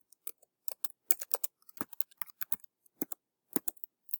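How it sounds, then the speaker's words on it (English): Keystrokes on a computer keyboard while entering text into an Excel spreadsheet cell: a brisk, irregular run of sharp clicks with short pauses, close and fairly quiet, with no voice. "I'll type it into cell A1."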